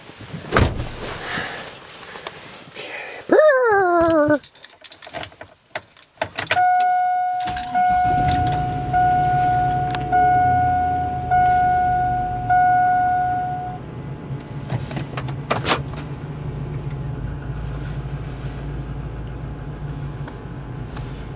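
A Chevy Avalanche Z71 pickup truck during a cold start: a rising starter whine and catch, then a steady idle with a high whine that settles into a low, even rumble, heard alone without talk.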